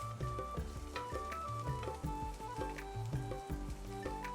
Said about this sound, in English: now saute this for a minute or 2